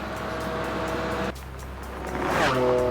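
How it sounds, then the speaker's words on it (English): A Ferrari sports car drives at high speed on a road, its engine roaring loudly and steadily before dropping briefly, then surging again with rising revs as it passes close by. "pushing his Ferrari to nearly triple the speed limit"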